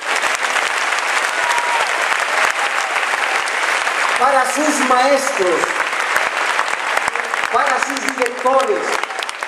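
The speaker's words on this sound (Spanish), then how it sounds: "A ver, quiero escuchar ese aplauso." An audience at a school graduation ceremony applauds in a loud, sustained wash of clapping close by, while someone speaks over it through a public address system.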